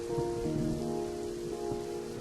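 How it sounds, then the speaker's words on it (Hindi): Rain pours steadily off a tin roof in a staged mountain-house scene, a dense continuous wash of falling water with low rumbling thunder underneath, no voices. "बादल की गरज और बिजली, टीन की छत में से परनाले बहने लगे।"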